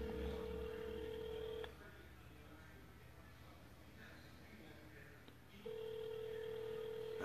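A phone call placed on speakerphone during a live sports talk show: a steady dial or ringback tone sounds loudly for about a second and a half, a quieter pause follows with faint room noise, then the tone returns.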